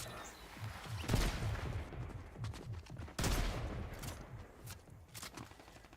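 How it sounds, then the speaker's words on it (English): Shotgun blasts in the video game Fortnite, two heavy booming shots about two seconds apart over a busy game soundscape with a low rumbling bed. "let's just see what this shotgun does"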